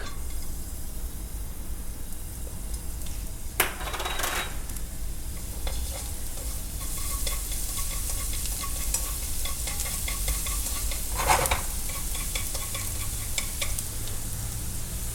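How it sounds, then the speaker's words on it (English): Garlic frying in hot oil for a truffle ramen dish, a steady sizzle throughout with stirring clatters around four and eleven seconds; no voices. "The oil first, and the garlic."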